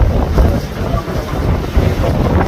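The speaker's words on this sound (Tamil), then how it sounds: "இப்போ புயல் காற்று வந்து கடுமையா அடிச்சிட்டு இருக்குங்க." Storm wind blowing hard around a fishing boat on the open sea, a steady, loud, rough roar that buffets the microphone without a break.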